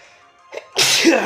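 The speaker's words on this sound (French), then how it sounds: "J'arrête pas d'éternuer depuis un moment." A single sharp sneeze bursts out after a quick breathy intake, loud and close.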